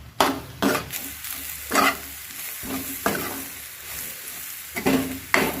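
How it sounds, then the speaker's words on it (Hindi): A spoon stirring a tomato mixture in a pan on a gas stove, with a steady sizzle underneath and repeated scraping strokes roughly every second, close and clear. "अब इसे मिक्स कर लेते हैं अच्छे से।"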